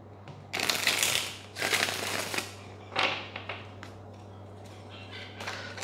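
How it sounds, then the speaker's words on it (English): A deck of tarot cards is shuffled in several quick riffling bursts with short pauses between, close and fairly quiet over a low steady hum. "One more shuffle."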